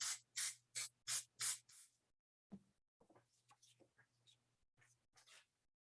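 Paint sprayed over a stencil comes in about six short, sharp hissing bursts close to the mic, followed by quieter scattered hisses and rubbing, with faint low hum beneath.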